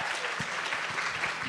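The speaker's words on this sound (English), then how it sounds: "can we all give her a round of applause?" Applause from a bookstore event audience celebrating an author, steady dense clapping filling the room throughout at moderate loudness, with no talk over it.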